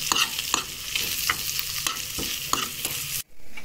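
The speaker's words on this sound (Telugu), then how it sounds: "ఇప్పుడు ఈ పసుపుని, ఈ కరివేపాకుని చక్కగా ఈ విధంగా కలిపేసుకోవాలి." Turmeric and curry leaves fry in a pan for Telangana rail palaram and are stirred with steady, rhythmic scraping strokes over a constant sizzle, which cuts out briefly near the end.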